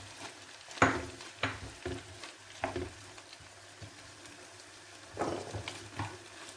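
Seafood sizzles in a pan for paella, a low steady frying hiss broken by several stirring scrapes and sputters spread through the clip.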